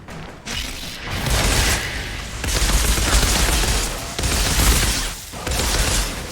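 Rapid auto shotgun fire in the Outriders video game, dense bursts of booming shots with brief gaps between volleys, loud and continuous with no talking.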